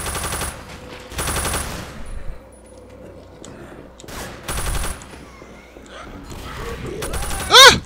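Gunfire in the zombie shooter game Left 4 Dead: several loud bursts of automatic shots separated by quieter game noise, with a sharp high-pitched cry near the end.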